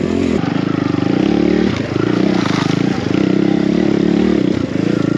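A BBR KLX170RF enduro dirt bike rides single track, its engine loud and close with a rapid buzzing thrum, revving and dipping briefly as the throttle rolls on and off over rough ground.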